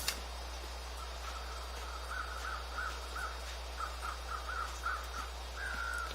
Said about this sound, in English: There are a bunch of birds circling around back here